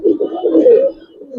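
Gribaz pigeons in a loft, a loud close cooing call with a rolling, throaty rhythm lasting about a second, trailing off into softer murmuring.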